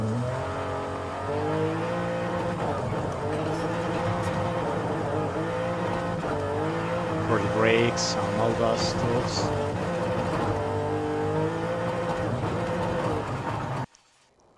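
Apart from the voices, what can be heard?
BMW M2 car accelerating in video game Forza Horizon 5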